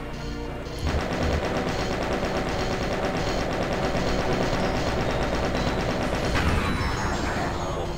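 Rapid, sustained gunfire from Mancu snipers in the Ancient Aliens video game, a dense unbroken rattle of shots mixed with impacts and game effects, loud and continuous for the whole stretch.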